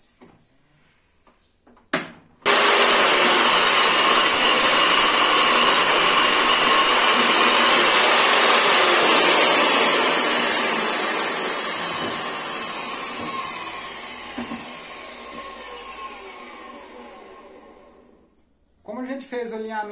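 A bench table saw cuts through wooden boards in one long, loud, continuous whine that slowly fades as the cut finishes, with brief handling knocks before it and the motor starting up again at the end.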